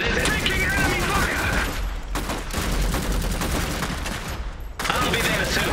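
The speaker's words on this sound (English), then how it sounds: "Taking enemy fire!" Sustained gunfire in the real-time strategy game Iron Harvest, a dense fusillade of rapid shots crackling steadily through the whole stretch. A short voice line sounds from the game's units over it.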